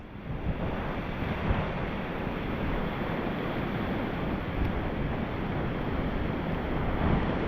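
Ocean surf at low tide on Bridgewater Bay, a broad continuous roar of breaking waves mixed with heavy wind buffeting the microphone, steady and loud throughout with no voices.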